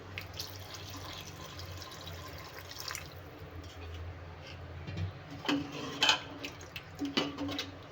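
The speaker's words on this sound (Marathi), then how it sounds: "तर आता मी पाणी घालून घेते" Water pours steadily into a pot of chicken curry with a hissing splash, growing more uneven toward the end with a few clinks and drips.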